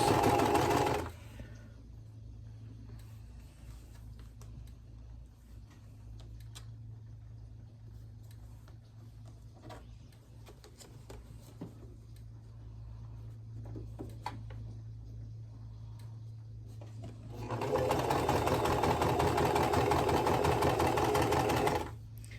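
A sewing machine stitches a quilt block in a steady, continuous whir, near and fairly quiet, with louder bursts at the start and end and no talking.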